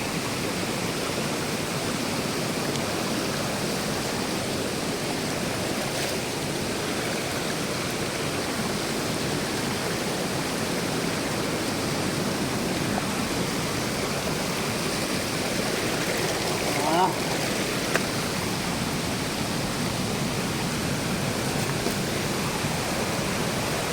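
A waterfall, the Punta Tayu falls, roars as a steady broadband rush of falling water, loud and close throughout, with no voices over it.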